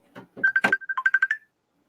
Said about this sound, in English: Oh yeah, somebody's calling. Yeah, it's video calling.